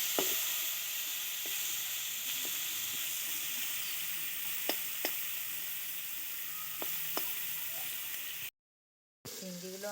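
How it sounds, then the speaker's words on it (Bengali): Prawns sizzling and frying in a little oil in a pan, a steady hiss running throughout with a few brief clinks and stirs, close and continuous, with no talking. "এবার আমি ওই তেলেই চিংড়িগুলো দিয়ে দেবো।"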